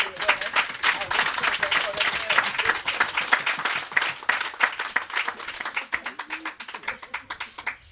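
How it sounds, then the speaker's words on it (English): An audience at a sod turning ceremony in Micoud applauds in a dense burst of clapping that thins toward the end into scattered individual claps. "Let's give him a round of applause."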